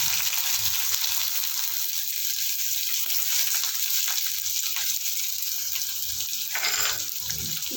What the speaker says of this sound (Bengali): এগুলো ভাজবো ভালো করে।